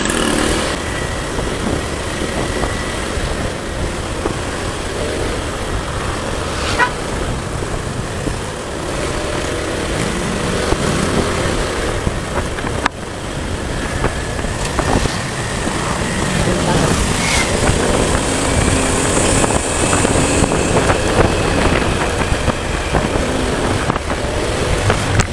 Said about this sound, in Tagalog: Oh, matakbo pa oh, kahit na karag-karag na. May makina pa eh.